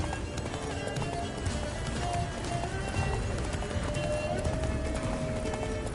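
Galloping horse hooves in The Witcher 3, a steady clip-clop rhythm running continuously beneath game music and ambient sound, moderately loud throughout.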